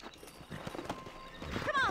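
Quiet clip-clopping horse hooves in the video game Red Dead Redemption, followed by a brief high whinny at the end, with faint talking in the background.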